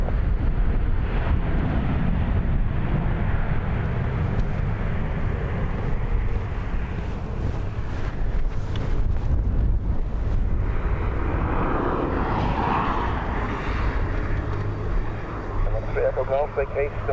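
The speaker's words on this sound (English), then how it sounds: "Yeah, start takeoff now." Roaring jet airliner taking off at Dublin Airport during a storm with high winds, a sustained loud rumble mixed with gusting wind buffeting the microphone throughout, and people talking over it.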